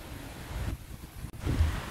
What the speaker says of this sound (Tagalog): napapansin kong parang lumalakas yung hangin